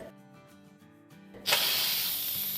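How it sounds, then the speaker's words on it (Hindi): A sudden loud, broad hiss of steam bursts out of a pressure cooker of haleem after a quiet stretch and keeps rushing steadily, close by, as pressure vents. "अब दूसरा प्रेशर कुकर भी खोल लेते हैं।"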